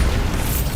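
A Bombarda blasting spell in Hogwarts Legacy goes off as a loud, close, brief explosive burst with dense low rumble, filling the whole short moment.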